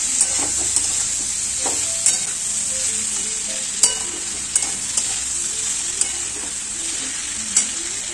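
Vegetables being stirred with turmeric and salt in a pan for a Bengali mixed vegetable curry with mustard and poppy seed, steady frying sizzle under scattered spoon scrapes and taps against the pan.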